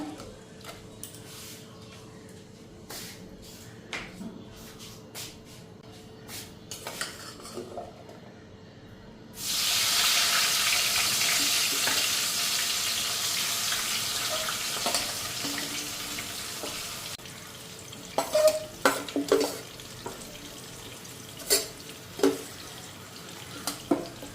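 A bay leaf dropped into a hot pan sets off a sudden loud sizzle that holds steady for several seconds, then fades back to quiet kitchen clatter and scattered knocks of stirring.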